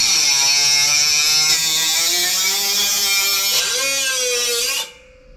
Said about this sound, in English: I'm just going to cut it with our die grinder